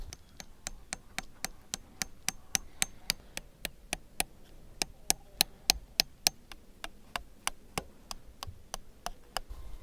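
Steady, rapid hammer taps drive roofing nails into a tree outdoors, around thirty sharp evenly spaced blows over ten seconds, close and crisp over quiet background.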